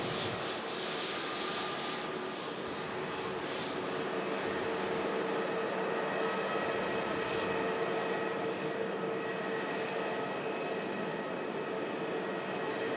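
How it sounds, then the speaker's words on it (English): A Virgin Airbus A350-1000 takes off at Manchester Airport with a sustained, broad jet engine roar that holds steady and fairly distant throughout, with no voices. "Airbus A350 1000. Taking off here at Manchester Airport"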